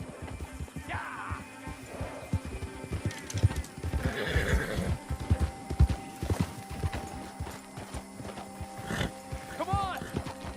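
Horse in the Red Dead Online video game whinnying and snorting while hooves clip-clop on the ground, with several neighs and a rapid run of hoofbeats, heard close and loud alongside talking voices.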